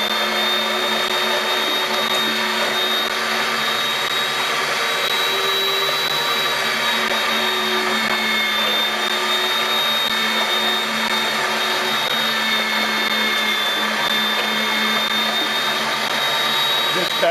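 An electric tomato strainer grinds through whole tomatoes with stems, a loud, steady motor whine with a constant high tone running unbroken throughout.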